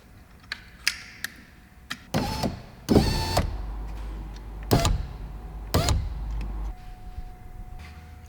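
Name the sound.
VW T6 electric power window being lowered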